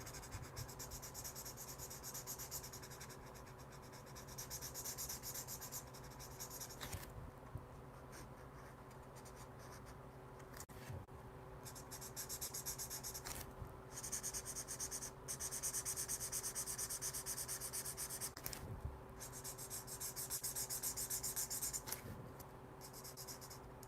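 A turquoise art marker is dragged across paper while coloring an inked comic drawing, giving quiet, soft scratchy strokes that come in repeated bursts against a faint background hum.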